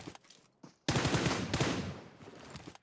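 An Uzi submachine gun fires in PUBG Mobile: a few faint pops, then a dense, loud burst of rapid automatic fire that rattles on continuously to the end, with no voices.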